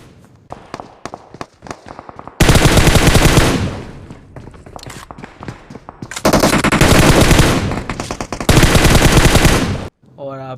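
Gunfire in a battle royale video game: long bursts of loud automatic fire alternate with scattered single shots. The shooting sounds close, with no talking.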